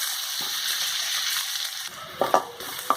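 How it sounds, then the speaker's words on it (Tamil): Chopped onion sautés in a hot pan with a steady close sizzle. A few scraping stir strokes break through near the end. "கட் பண்ணி வச்சுருக்கிற வெங்காயம் ஆட் பண்ணி நல்லா வதக்கி எடுத்துக்கோங்க"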